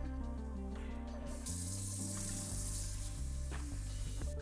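Tap water running steadily into a wet measuring cup for cooking oats in a home kitchen, a continuous hiss and splash at close range over a low background hum, with no talk.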